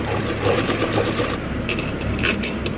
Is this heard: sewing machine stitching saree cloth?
yes